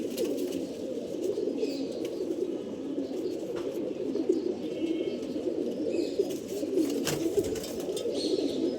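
Racing pigeons, including an Army-blood bird, cooing in a loft, soft low repeated coos from several birds overlapping in a steady murmur, with occasional faint clicks and no talk.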